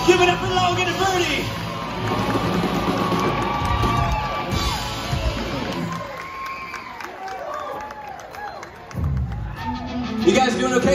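A large crowd at a SeaWorld San Antonio Xtreme FX show cheers, whoops and yells loudly for several seconds, fades briefly, then surges again, with an amplified announcer's voice heard over the noise.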